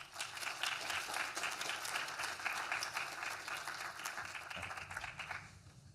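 A conference audience applauds as Kelvin Henderson of Duke Energy is welcomed to the stage, giving steady, fairly dense clapping that holds for several seconds and then tapers off at the end.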